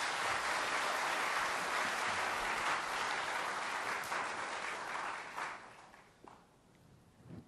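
A large audience applauds to welcome a speaker, the tanzanian youth, culture and sports minister, at a formal event, with steady dense clapping that fades out over the final two seconds.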